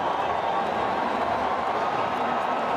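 A large stadium crowd roars in a dense, sustained wash of noise, with a commentator's voice speaking over it.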